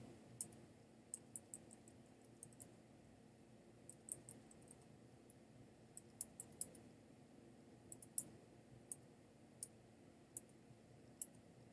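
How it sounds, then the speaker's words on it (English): Arrow keys on a computer keyboard clicking in a quiet room, a scattered series of sharp, light taps at an irregular pace over a faint background hum, with no talking. "I'm just using the arrow keys on my keyboard."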